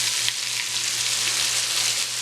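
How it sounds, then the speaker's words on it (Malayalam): Chicken frying in hot oil over low flame, a steady, dense sizzle that crackles continuously up close with no voices. "നമുക്കിനി ഇത് ഫ്രൈ ചെയ്തെടുക്കാം."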